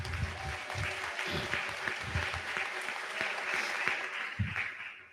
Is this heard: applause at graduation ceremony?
yes